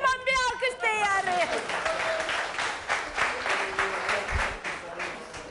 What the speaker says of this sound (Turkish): Kocaman bir alkış teyare.